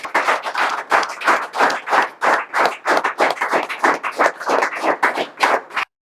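Students in a classroom clap together in welcome, a rhythmic series of about twenty sharp, close claps in near-unison with short gaps, stopping abruptly.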